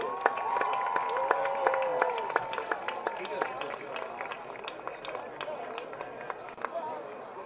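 Applause at a high school football game at Lexington Catholic, steady clapping from a crowd with scattered sharp claps and a whistle, while a voice talks over it.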